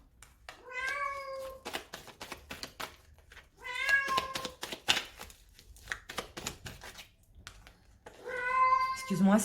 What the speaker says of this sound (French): c'est mon chat qui veut sortir